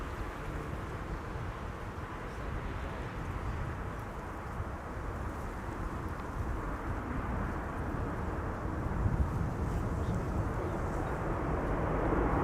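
A Delta A330-300 lands at Amsterdam Schiphol with reverse thrust, a distant, steady low jet roar that swells slightly toward the end.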